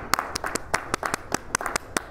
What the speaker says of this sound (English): Let's give him a clap offering tonight,